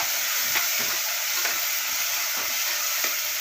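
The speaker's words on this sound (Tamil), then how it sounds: "கொஞ்சமாக மஞ்சத்தூள் கொஞ்சமாக மிளகாத்தூள் சேர்த்துடலாம் மிளகாத்தூள் கொஞ்சம் நல்லா வதக்கிடலாம்" Vegetables sauté in a pan with turmeric and chili powder, giving a steady, close sizzle with soft scraping stirs at intervals and no talking.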